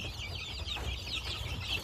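Many 15-day-old incubator-hatched chicks peep continuously in a dense, high-pitched chorus, close and fairly loud, with faint clucking underneath.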